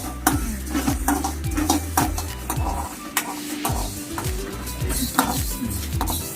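Fenugreek seeds roasting in a pan over a low flame for mango pickle, a soft sizzle under a steady rhythm of a spoon scraping and clinking against the pan as they are stirred.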